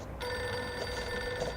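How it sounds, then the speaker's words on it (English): A telephone rings in the video game Reverse 1999, a steady electronic bell tone that sounds alone at moderate level after a brief quiet start. "Pick up the phone, you hear?"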